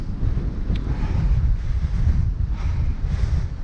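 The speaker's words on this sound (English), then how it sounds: "riding into the wind. It's not going to be fun. You might be able to hear it blustering across" Strong, blustering wind roaring across the microphone while cycling into a headwind on a long January road ride near Hadrian's Wall, a constant loud low rumble with no voices.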